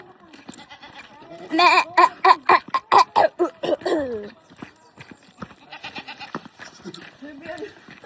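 Several goats bleat in quick succession, loud and close, in a rapid run of calls that fades into quieter bleats and brief murmurs, with people talking nearby.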